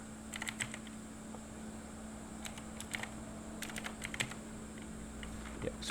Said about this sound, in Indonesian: Kemudian pada bilah address Anda ketikkan